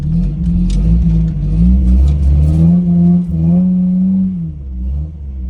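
A broken RAM 50 truck being drifted, its engine revving loud and close with a steady droning growl that swells and dips in pitch across several seconds, with no talking.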